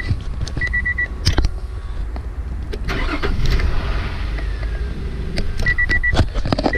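A Nissan car's engine cranks and starts after an aftermarket immobilizer is touched, with faint electronic beeps before the start and the engine catching and settling into a steady idle in the second half.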